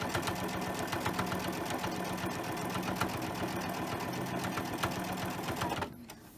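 A sewing machine stitches fabric for hand warmers in a fast, steady mechanical rhythm of needle strokes. It runs loud and close for nearly six seconds, then stops abruptly.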